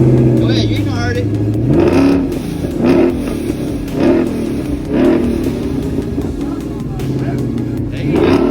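A street car's engine revs repeatedly at a car show, a steady idle broken by several loud throttle blips about a second apart, with people talking over it nearby.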